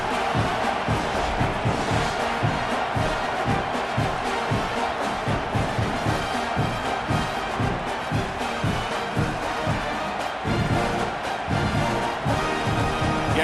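Stadium crowd at an East Carolina at Texas A&M college football game roaring after an opening kickoff touchdown return, a dense, sustained wall of cheering and shouting that stays loud throughout.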